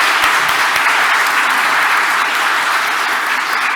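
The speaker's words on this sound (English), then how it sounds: "round of applause for all of them" A conference audience applauds its session speakers, a dense, steady wash of clapping from a full room that holds at an even level without cheers or talking.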